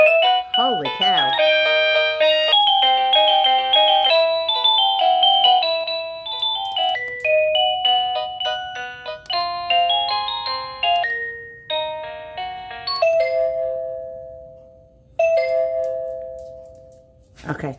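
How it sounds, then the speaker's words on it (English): A wireless doorbell plays a series of bright electronic Christmas chime melodies, loud and close, with short pauses between tunes as the tones are cycled. "Now I should be able to change the rings. Oh, it's got Christmas rings."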